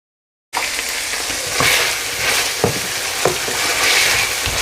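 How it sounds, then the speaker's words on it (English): Potatoes fry in a pan with ginger and garlic paste, a steady loud sizzle that starts abruptly after a short silence, with occasional stirring clicks and scrapes. "I'm now going to add the ginger and garlic paste straight in and just give that about 2 to 3 minutes just to cook through"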